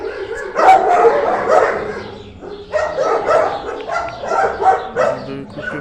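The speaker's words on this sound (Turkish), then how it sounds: "Havlayıp duruyor saldırmaz." Dogs at an animal shelter bark in loud, close bursts, with yips and whimpering mixed in, coming in two clusters separated by a short pause.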